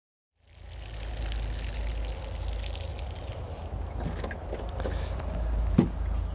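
Water runs steadily onto plants in a garden, a continuous close hiss and trickle that starts abruptly and continues with occasional splashes and knocks.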